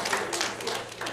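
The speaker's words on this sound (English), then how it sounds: "Yeah, you can clap for that." Church congregation clapping during a live-streamed service, a short burst of several rapid claps over about a second, fairly close with a roomy feel.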